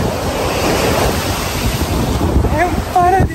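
Continuous rushing sea waves and wind buffet the microphone at a seaside villa with direct sea access, loud and close, with a brief voice near the end.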